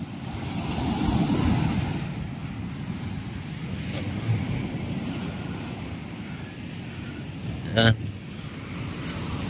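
Sea waves wash steadily along the shore with wind buffeting the microphone. Someone speaks a few words over the surf, and a short sharp sound breaks through near the end.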